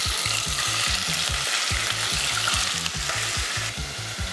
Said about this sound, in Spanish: mi pollo cortado y simplemente lo voy a poner en la olla